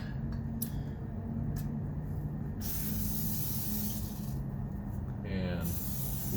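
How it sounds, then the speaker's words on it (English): WD-40 sprayed into a metal clay extruder tube, a few short close aerosol hisses in bursts, with a voice talking over parts of it. "And then we give it a little spritz of WD-40."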